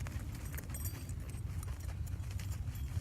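Hoofbeats of a young four-year-old reined cow horse prospect ridden in a hackamore, a steady, fairly close clip-clop rhythm continuing throughout with no talking.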